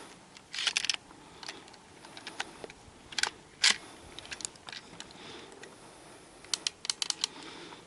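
The bolt of an M1A1 Thompson submachine gun is worked by hand, giving several sharp, close metallic clicks and clacks in short bursts separated by quiet pauses.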